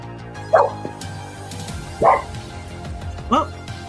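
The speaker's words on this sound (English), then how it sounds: "Oh, Pup is saying hello" A dog gives three loud, spaced barks close by, with quiet room tone between them and a voice talking briefly.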